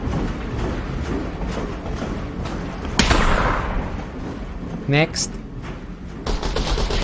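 Bursts of enemy gunfire in a Half-Life: Alyx VR custom map on a bridge, with a sharp loud volley and quick repeated shots mixed with mechanical clatter, under occasional speech.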